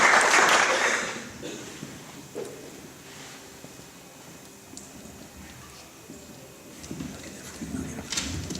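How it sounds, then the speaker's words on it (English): Audience applause at a fall concert, a brief burst of clapping at the start that fades into a quieter room with scattered rustling and faint voices, then some renewed clapping near the end. "So, absolutely, nice round of applause."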